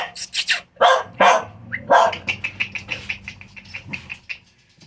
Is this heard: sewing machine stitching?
no